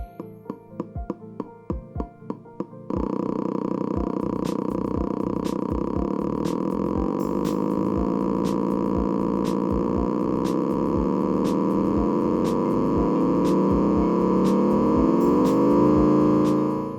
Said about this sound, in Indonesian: Dan simulasi firing ordernya kurang lebih seperti ini.